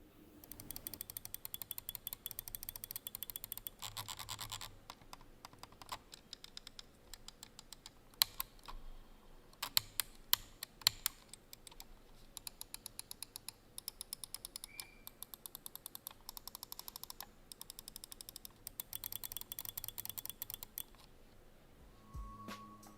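Rapid, crisp clicking of a Logitech G502X gaming mouse's hybrid switches in bursts, close and dry, pausing now and then before starting again; no voices.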